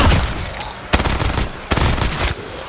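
Gunfire from a weapon in Black Ops 3 custom Zombies, loud close shots in bursts: a run of rapid reports at the start, a sharp volley near one second and another burst near 1.7 seconds, with dense crackling between them.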